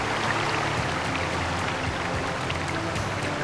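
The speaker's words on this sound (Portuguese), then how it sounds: "Oh, eu tô ouvindo a água, hein? E lá vem ela." Water rushes and flows steadily at a gold mining site with a dredge, a dense, continuous wash of noise like a stream, fairly loud and close with no voices.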